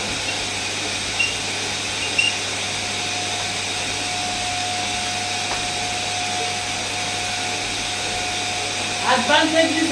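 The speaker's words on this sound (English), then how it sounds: "Join me, let's vacuum" A vacuum cleaner runs steadily on a floor indoors, a constant close whirring roar with a faint whine, and a voice speaks briefly near the end.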